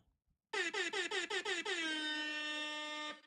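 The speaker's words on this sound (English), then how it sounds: "Let me see if my air horn is working." A truck air horn sounds close and loud, several short rhythmic blasts followed by one long sustained blare that cuts off abruptly.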